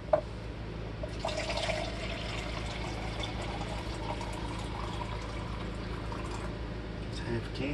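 Water from a can being poured into a pot of chili, a faint, steady pouring and trickling that runs for several seconds in a kitchen, with low room noise beneath.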